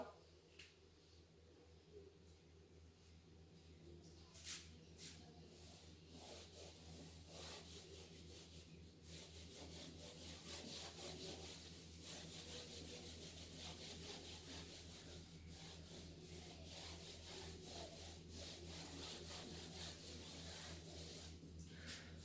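A board being rubbed clean during a physics class, giving a steady scraping, rubbing texture that runs throughout at moderate level over a low background hum.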